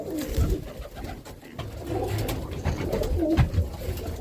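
Roller pigeons coo in low, throaty bursts in a loft, several overlapping calls repeating close by against a faint background hum.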